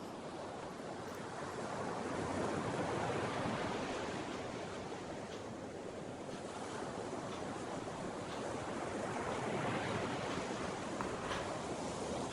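Sea waves roaring at Cherai Beach in Kerala, a steady broad wash of surf that swells and eases over twelve seconds, with light wind on the microphone and no voices.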